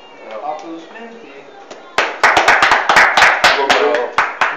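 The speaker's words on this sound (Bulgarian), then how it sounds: "Аплодисменти." At a Bulgarian talent show, a performer's voice or music fades out, then a burst of audience clapping begins with sharp, irregular claps that continue to the end.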